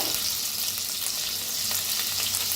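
A paste of ground garlic, green chilli, ginger and coriander fries in a hot pan with a steady, soft sizzle and light crackle throughout, no voices.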